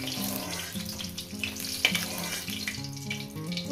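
An egg fries in hot oil in a pan, a continuous bright sizzling hiss with a faint sharp pop, running steadily under a tonal background of music.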